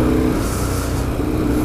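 A BMW R1150R Rockster motorcycle engine pulls steadily as the throttle opens on a cold winter ride, a loud, continuous low rumble with wind noise and no pauses.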